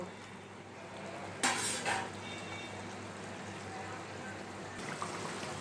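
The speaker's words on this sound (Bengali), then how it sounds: "দেখো ঝোল ফুটে গেছে এবার আমি মাছ ভাজাগুলো দিয়ে দিচ্ছি ঝোলের মধ্যে" Fried tangra fish slide into boiling curry gravy with a brief splashing clatter, then a steady soft sizzle and bubbling continues at close range.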